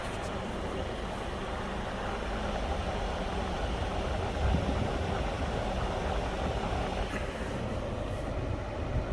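A truck engine idles in a steady, even rumble with a broad hum, fairly close and unchanging throughout, with no one speaking.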